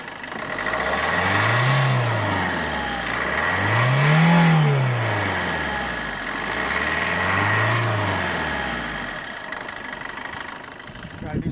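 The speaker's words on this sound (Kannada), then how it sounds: "ಗಾಡಿ ಸೌಂಡ್ ನೀವು ಕೇಳಿರಿ ವಿಡಿಯೋ ಒಳಗೆ." A Maruti Swift Dzire VDI diesel car engine runs close by, rising and falling through three slow revs over a steady idle rumble, with a faint voice in the background.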